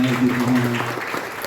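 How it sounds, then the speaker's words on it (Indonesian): A church congregation breaks into brief clapping during a worship service, heard under a speaking voice for about a second and a half. "Tepuk tangan dulu."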